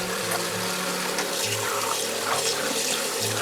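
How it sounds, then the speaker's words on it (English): Cold tap water runs steadily over cooked rice noodles in a sink, a continuous close splashing rush with faint low thumps, no voices. "Rinse them with cold water."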